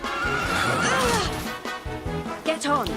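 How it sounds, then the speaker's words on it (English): Hendrik's horse in the video game Dragon Quest XI gives a loud, drawn-out whinny with some hoof clatter. Shorter neighs and game voices follow close behind. "We're stealing Hendrik's horse?"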